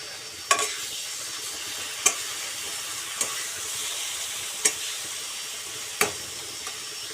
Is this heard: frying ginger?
yes